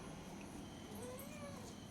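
A soft, distant cat meow sounds once or twice over a quiet background hum while fish is being cut in a kitchen.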